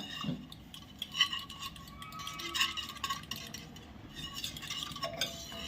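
Steady scraping and knocking of a utensil mashing cooked dal and tomato in a metal pot, repeated strokes with small clinks, fairly close and no talking.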